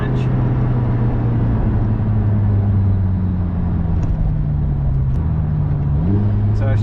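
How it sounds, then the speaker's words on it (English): A Lotus Emira's engine drones steadily from inside the car, then a quick throttle blip lifts the revs for a rev-matched downshift near the end, with road rumble underneath. "I'm loving the rev match."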